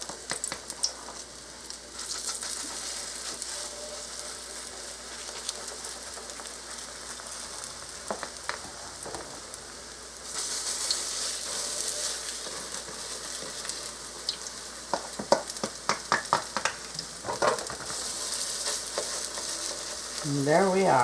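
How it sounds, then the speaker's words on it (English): Potato pancakes fry in a pan of hot olive oil, giving a continuous crackling sizzle with bursts of spattering pops, fairly close and steady throughout with no voices. "our oil is hot, and I got just a little dot of olive oil in there. You'll hear that."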